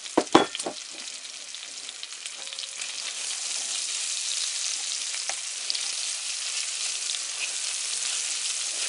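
Diced onions hit a pot with bacon, a few sharp knocks of the ingredients dropping in giving way to a loud, steady sizzle that holds close and even throughout.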